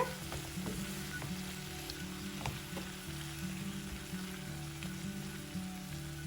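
Brinjal fries in a pan with chili powder, giving a steady, fairly quiet sizzle with faint crackles throughout. No one speaks.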